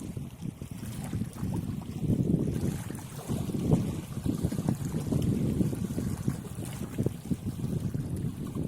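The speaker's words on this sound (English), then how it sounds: "These waves are crashing too close to my feet." Turbulent ocean waves crash close by on the shore in a steady, loud surge of rolling surf, mixed with wind buffeting the microphone.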